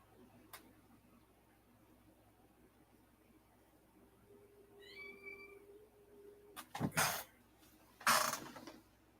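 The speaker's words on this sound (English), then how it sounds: "Sounds like a cat getting ready to get killed." A cat yowls outdoors on rural property, a faint drawn-out wail in the middle followed by two loud, harsh bursts near the end over a low background hum.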